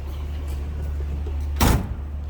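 A low engine rumble hums steadily, then a single solid thud of a 1965 Ford Mustang Coupe's door shutting nearby.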